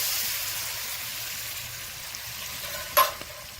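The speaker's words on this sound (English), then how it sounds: "I'm stirring this to get the roux" Margarine and flour roux for a chicken pot pie are stirred in a pan at a camp kitchen, making a soft continuous sizzle and hiss with a brief clink of a utensil near the end, quiet and close.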